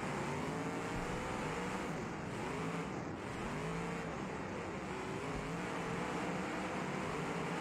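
Cars racing in a video game, a constant loud drone of engines with pitches sweeping up and down as the cars accelerate and pass.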